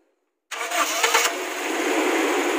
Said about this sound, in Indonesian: Ya, coba nyalain mesinnya.